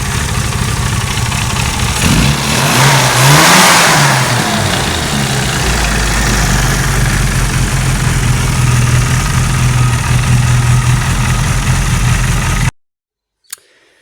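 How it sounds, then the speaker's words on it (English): Classic Mini 998 engine with a lumpy cam, running unevenly as if missing, its drop gears whining noisily; a brief rev swells early, then it settles back to a loud, close idle before stopping abruptly. "it's certainly lumpy with that cam in it. It sounds almost like it's missing, but and the drop gears are a bit noisy"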